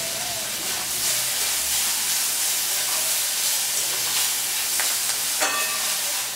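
White and black cumin seeds and slit green chilies sizzle in a spoonful of hot oil, a constant close frying hiss with faint crackles and no talk.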